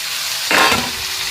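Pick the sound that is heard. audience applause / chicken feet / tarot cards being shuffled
chicken feet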